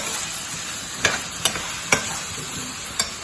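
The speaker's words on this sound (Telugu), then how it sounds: "ఇప్పుడు ఇందులో రొయ్యలు కలుపుకుంటున్నాం" Prawns are stirred into a frying pan for a spinach and prawn curry; a soft sizzle runs underneath while four sharp scrape-and-clink strokes of the spoon land at irregular intervals.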